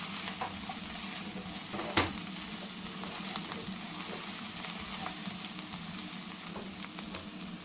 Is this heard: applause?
no